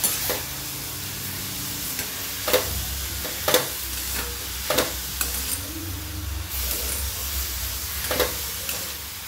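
Grated paneer filling for veg momos is stirred and mixed in a vessel, soft scraping and stirring strokes recurring every second or so over a faint steady background hiss.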